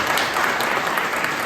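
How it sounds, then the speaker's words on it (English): Applause from guests at a dragway awards banquet, a dense burst of many hands clapping together, close and loud, brief and without talk over it. "let's give David a round of applause"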